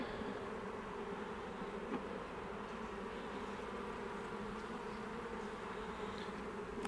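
Honeybees buzzing around a weak, struggling nuc hive, a faint continuous hum with scattered passing buzzes of individual bees close by, no voices.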